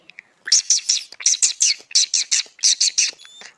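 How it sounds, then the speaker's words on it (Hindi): Rapid bursts of high, bright chirping from birds, coming in quick repeated clusters, fairly close and clear with no talking. "पक्षी फिर से चहचहाने लगे"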